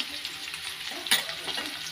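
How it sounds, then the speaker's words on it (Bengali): Potatoes fry in a wok with added turmeric and salt on a gas stove, giving a soft, steady close sizzle with a brief louder crackle partway through, no voices. "এখন আলুটা ভাজা দিয়ে দিই।"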